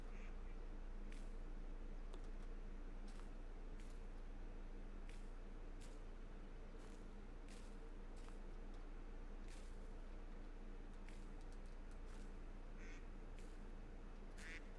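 Ducks quack repeatedly in the medieval survival game Medieval Dynasty, sounding as short scattered calls spread unevenly over a steady low outdoor ambience, fairly faint and with no speech.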